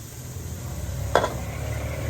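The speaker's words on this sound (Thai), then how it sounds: "ต่อไปก็ผัดไปก่อนนะครับ มันก็จะไม่ติดกระทะ" Stir-frying for Thai holy basil in a wok with oyster sauce, a low steady sizzle under one sharp scrape or clink of the spatula against the pan.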